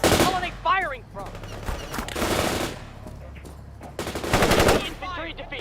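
Gunfire in the video game World in Conflict, with bursts of loud automatic fire and heavy shots, while a few voices talk over parts of the battle.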